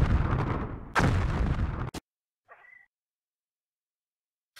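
Artillery fire in the WWII strategy game Blitzkrieg: two heavy booming blasts in quick succession, each with a rumbling tail, followed by a brief faint chirp and then silence.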